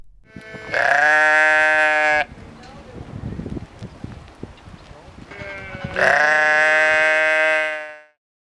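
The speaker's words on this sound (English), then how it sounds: "Sheep." Two loud, wavering sheep bleats with a stretch of quieter rustling background noise between them.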